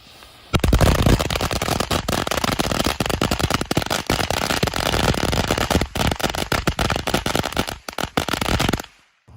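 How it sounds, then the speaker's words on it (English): A long, loud string of firecrackers pops in rapid, dense bursts for several seconds before cutting off abruptly. "What are these, firecrackers?"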